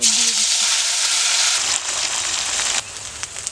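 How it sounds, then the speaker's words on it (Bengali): Whole cumin with ginger, cumin and chili pastes sizzles loudly in hot oil in a kitchen, a dense, bright hiss that eases slightly as the pastes settle, with a few soft utensil taps near the end. "তেল গরম হয়ে গেছে, দিয়ে দিচ্ছি গোটা জিরা, দিয়ে দিচ্ছি আদা বাটা, জিরা বাটা, লঙ্কা বাটা সব একসাথে"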